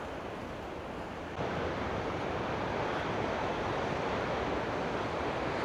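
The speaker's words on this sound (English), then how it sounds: "You see still splashing over the wall down there" Rough sea waves crashing and splashing over a harbour wall at Seaham, a dense continuous roar of surf that swells louder after the first moment and stays heavy, with wind buffeting the microphone.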